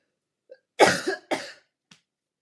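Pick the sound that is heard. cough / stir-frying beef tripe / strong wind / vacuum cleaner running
cough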